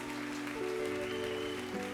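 Church congregation applauding in praise during a worship service, a steady dense clapping wash with music tones sustained underneath, moderately loud throughout.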